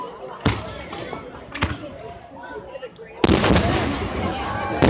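Fourth of July fireworks going off outdoors, sharp bangs and crackling bursts followed by a sustained rumbling crackle, with people talking and exclaiming over them.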